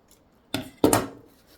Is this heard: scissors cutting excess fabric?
yes